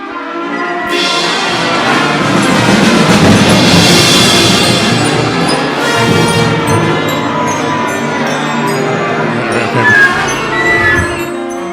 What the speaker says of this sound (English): they get their instruments ready, and it kind of sounds like this